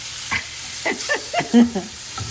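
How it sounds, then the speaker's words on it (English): Shrimp searing in butter in a frying pan, with a quiet sizzle and a few short scraping stirs while a voice talks over the cooking. "So the butter really crisps these up and sears these."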